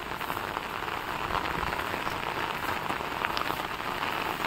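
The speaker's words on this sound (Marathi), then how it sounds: "जोरदार पाऊस सुरू आहे" Heavy monsoon rain pours down steadily in a hilly village near Boisar, a dense, loud patter of drops hitting surfaces without pause.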